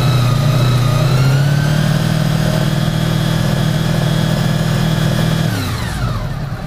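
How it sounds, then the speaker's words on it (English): A motorcycle with a suspected charging-system fault is revved and held at a steady, loud, raised engine speed, then the engine note drops away near the end. "I'm going to try and rev up to about 500."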